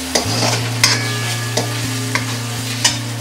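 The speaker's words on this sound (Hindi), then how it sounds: "हल्दी को स्टर कर लेते हैं" Turmeric is stirred into a frying tomato mixture: an even sizzle runs under a low steady hum while a spoon scrapes the pan in regular strokes about every half second to second.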